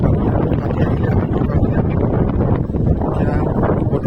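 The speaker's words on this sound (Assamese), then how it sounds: "বতৰটো চাইছে কিমান বতাহ চলি আছে ইয়াতে" Strong wind blows outdoors at a farm where farmhouse construction is under way, buffeting the microphone with loud, continuous rumbling gusts that dip briefly midway.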